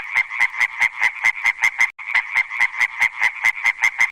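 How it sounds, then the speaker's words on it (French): A small green frog croaks in a fast, steady series of about eighteen even pulses, loud and close, with one brief gap midway. "Je suis une petite grenouille verte."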